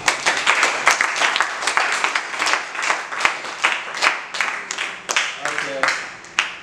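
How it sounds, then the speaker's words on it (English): Group of people clapping together for a woman, quick rhythmic hand claps with some crowd noise and voices mixed in, fairly close and lively. "let's clap for her."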